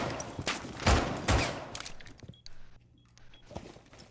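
Gunfire in a Rainbow Six Siege one-on-one, a few loud close shots in quick succession with sharp cracks, then quieter game ambience with a faint hum and another distant shot near the end, no talking.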